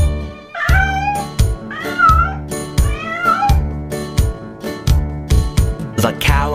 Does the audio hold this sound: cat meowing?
yes